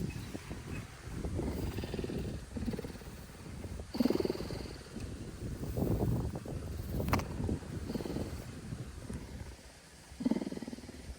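A pet cat named Will purrs steadily and close by for the whole stretch, a low rumbling purr running alone at a calm pace on a mild outdoor day at an animal rescue.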